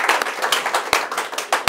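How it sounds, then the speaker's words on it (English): A short burst of lively clapping from a group, brisk and fairly loud, lasting under two seconds. "Let's give him a round of applause."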